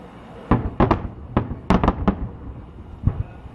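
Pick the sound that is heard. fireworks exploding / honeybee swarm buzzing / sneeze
fireworks exploding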